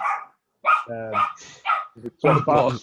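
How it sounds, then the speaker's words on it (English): A dog barks in a few short bursts, close by, with people talking around and between the barks. "Sorry, my dogs."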